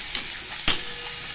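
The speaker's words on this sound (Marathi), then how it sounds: "सुकं खोबरं आणि लसूण हे आपण चांगलं आता असं तेलामध्ये परतवून घेणार आहे" Garlic and dry coconut paste sautéing in oil for a gavar bhaji, a short close sizzle with a couple of sharp spatula scrapes breaking through the hiss.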